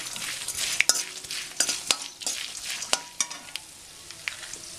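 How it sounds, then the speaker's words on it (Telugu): Chudva snack of flattened rice fried on low flame in a pan, a steady soft sizzle broken by repeated clinks and scrapes of a spoon stirring, close and alone without talk. "ఫ్రై చేసుకోవాలి."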